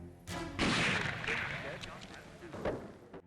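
A single heavy rifle shot from a sniper in wartime Stalingrad cracks loudly and rolls into a long booming echo, with faint battlefield rumble trailing after.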